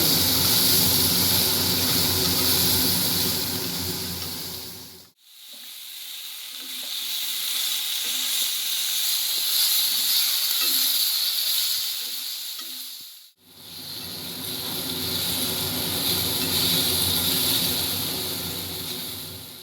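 Eggplant fries in hot oil for a Bengali neem-leaf and brinjal dish, giving a loud, steady sizzle that cuts out briefly twice and then resumes, with no talking.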